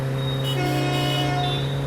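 A truck horn blares on a busy road in an audio comedy drama, a loud, sustained, tonal honk that holds steady throughout over rumbling traffic.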